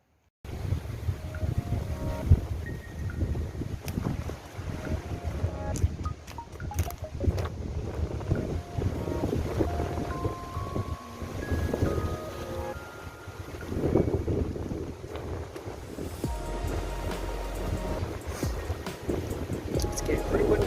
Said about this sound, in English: It's getting pretty windy and the sky's full of rain clouds